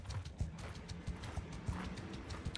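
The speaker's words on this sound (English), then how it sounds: "I have a couple horses." Horse hooves clip-clopping in the video game Mount and Blade 2: Bannerlord, a quick, steady galloping rhythm of muffled hoofbeats at moderate distance, fairly quiet, with no voices.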